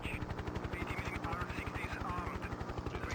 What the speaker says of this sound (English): Oh, there is a helicopter.